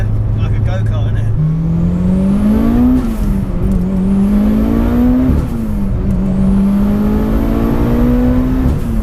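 A 720bhp Mitsubishi Evo VII engine pulls hard through the gears, loud and steady, with rising revs broken by quick shift dips and turbo whistle, heard from inside the car while people talk.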